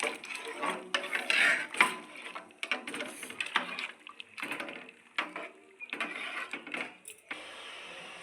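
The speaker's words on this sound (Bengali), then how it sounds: "জলটা একটু নেড়ে দেবো।" Salted water being stirred in a cooking pot, with a spoon scraping and clinking against the metal in quick, uneven strokes at close range.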